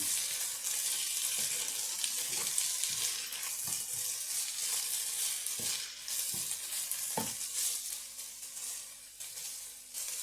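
Kottu roti ingredients sizzle in a frying pan while a utensil stirs and mixes them, with regular scraping knocks over a continuous hiss and no voices.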